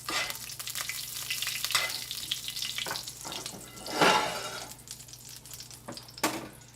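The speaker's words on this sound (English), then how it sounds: "I'm going to put a couple spoonfuls of butter onto my steak" Steak sizzles in a hot pan with spoonfuls of butter, a steady crackling fry that holds for several seconds and swells briefly near the middle, with no voices.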